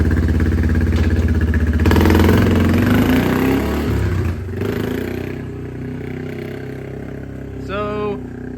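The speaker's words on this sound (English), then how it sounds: "So we got the four-wheeler started." A four-wheeler ATV engine runs at a steady idle with a slight rev early on, its mid-pitched drone continuing under faint voices before settling lower near the end.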